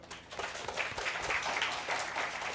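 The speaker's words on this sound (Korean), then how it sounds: "박수 한번" A lecture audience at Sungkyunkwan University claps for a third-year business student, a brief burst of moderately faint, dense applause in a room.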